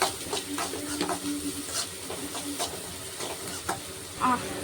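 Onions sizzle steadily with salt in a hot pan for egg bread kothu parotta while a utensil stirs and scrapes at irregular intervals, close and moderately loud.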